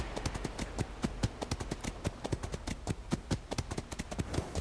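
Horse hooves clip-clop in the video game ATLAS. The footfalls are steady, rapid and fairly close, with no talk over them.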